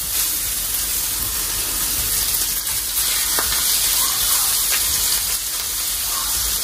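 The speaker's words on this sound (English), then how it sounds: "I'm gonna drop the other two in so they can get a good sear real quick" Meat sears in a hot pan with a loud, steady sizzle and hiss that carries through the whole stretch, close and continuous, with no voices.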